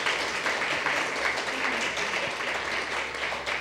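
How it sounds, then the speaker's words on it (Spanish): An audience at a Spanish-language panel discussion applauds, dense sustained clapping from many hands that fills the room evenly for several seconds, with no one speaking over it. "Así que un aplauso para ustedes."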